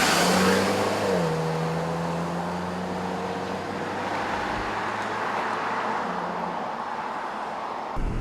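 A compact SUV, one of a Toyota RAV4, Honda CR-V, Ford Escape and Jeep Cherokee group, drives on a road, its engine note rising and shifting over a steady broad roar of tire and road noise, heard from inside with no talking.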